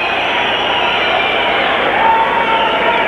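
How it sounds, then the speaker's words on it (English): A dense boxing arena crowd roars and hollers steadily and loudly, with a thin whistle running high above the din. "The whistles you hear, they're some of the American contingent, the boxing team is hollering barn in the USA"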